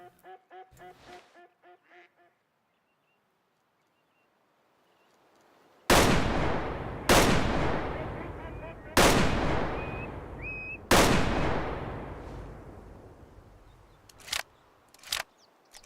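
Ducks hunted in the video game Way of the Hunter: faint quacking and honking near the start, then after a quiet stretch four loud, booming shotgun blasts spaced a second or two apart, followed by two sharper, quicker shots.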